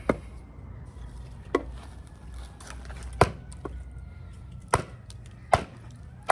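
A Snake Eyes hunting knife, a Bowie clone, chops into a dry, hard log, giving about five sharp, isolated woody chops spaced a second or more apart over a quiet outdoor background.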